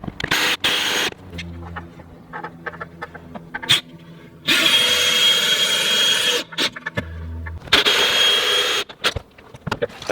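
Anchor bolts being driven into a wall while a small timber-frame awning is fitted, heard as loud bursts of power-tool whirring and drilling separated by quieter pauses and a few sharp knocks.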